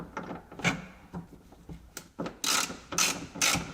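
Ratchet wrench clicking in short bursts while removing a rear bumper bolt on a Jaguar S-Type, close and crisp, with repeated quick ratcheting strokes separated by brief pauses.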